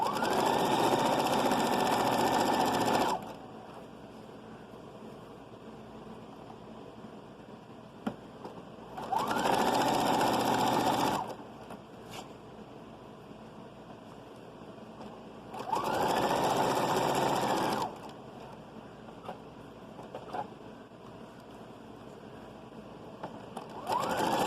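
A sewing machine stitches fabric around curves in three separate bursts of rapid whirring, each lasting a couple of seconds, with quiet pauses between them; close and fairly loud, no talking.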